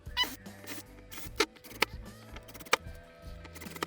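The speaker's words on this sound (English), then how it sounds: "I'm going to put 4 fasteners in this just because we're kind of tapping into basically just paneling" Fasteners are driven into the thin paneling of a Yetti ice-fishing shelter: several short, close, whirring bursts from a power driver, separated by quiet gaps and small clicks.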